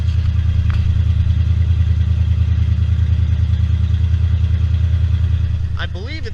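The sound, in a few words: 5.8 truck engine running cold at first startup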